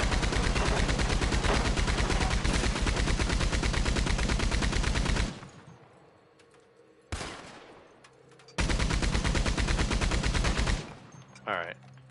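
In Red Dead Online, a long, dense burst of rapid gunfire ricochets, stops briefly, then returns in two more loud stretches with short pauses between them.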